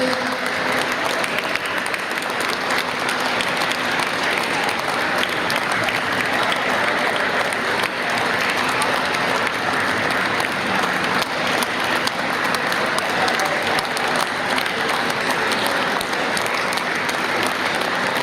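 Sustained applause from the crowd at a wheelchair rugby Challenge Cup final, steady and continuous clapping that holds at an even level throughout.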